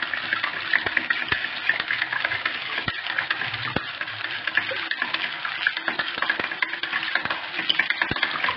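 Garlic goes into a hot frying pan and is stirred, giving a steady sizzle with repeated scraping clicks of a utensil against the pan, close and continuous throughout, with no talk over it.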